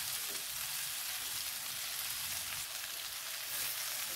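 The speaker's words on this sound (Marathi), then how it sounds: "भेंडी घालूया, मस्त परतून घेऊया।" Okra frying in hot oil in a seasoned tempering of garlic and salt, giving a steady close sizzle with a soft crackle that runs unbroken throughout.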